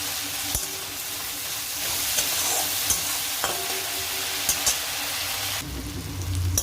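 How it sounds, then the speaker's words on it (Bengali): Ginger and ground coriander and cumin frying in oil in a pan, stirred for a banana flower dish, make a steady crackling sizzle with repeated spatula scrapes and taps, close and fairly loud, with no talking. "একটু ধনে গুঁড়ো দেবো আর একটু জিরে গুঁড়ো দেবো। ভালো করে মিক্স করে নিই।"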